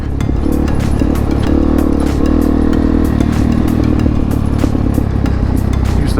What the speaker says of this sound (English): That engine braking,